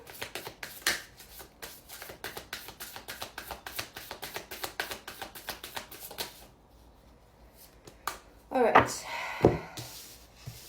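Tarot cards are shuffled close up in a quick, steady riffle of crisp flicks for several seconds, then stop, followed by a few louder soft taps and rustles.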